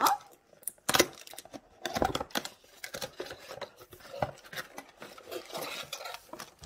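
A small box holding tiny rings of string is opened for a string art craft, giving a run of close, irregular light taps, clicks and rustles with brief pauses between them.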